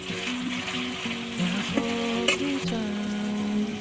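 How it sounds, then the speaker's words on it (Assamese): Onions fry in hot salted oil with a soft continuous sizzle as they are stirred, while a faint humming tone and a brief clatter sit over the frying. "পিঁয়াজখিনি ৰঙাকৈ ভাজি ল'ম।"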